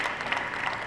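An audience at a Tamil public speech breaks into applause, a brief, fairly faint patter of many hands clapping together at a steady density.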